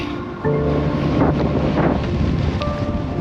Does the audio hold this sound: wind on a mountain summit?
yes